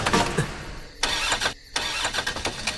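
A car engine turns over and catches, runs briefly with rough mid-pitched revving, cuts out for a moment, then sputters on again before dying, loud and close with no talk over it.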